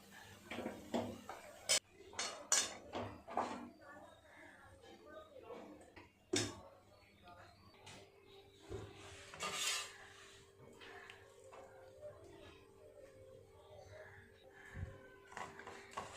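Thick kalakand milk mixture scraped from a pan onto a ghee-greased plate: quiet, irregular metallic clinks and spoon scrapes with some soft rubbing, under faint talk.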